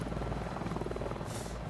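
A helicopter in the Wolfenstein 2 video game produces a steady, loud, low rotor thrum with a rhythmic chopping pulse, continuous and close throughout.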